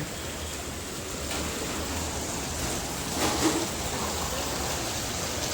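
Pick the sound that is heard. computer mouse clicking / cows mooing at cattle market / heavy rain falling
heavy rain falling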